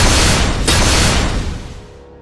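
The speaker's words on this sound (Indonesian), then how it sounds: "Ledakan besar menyusul" A large explosion booms with a dense, roaring burst that fills the space, then slowly rumbles and fades over a couple of seconds, loud and close with no voices.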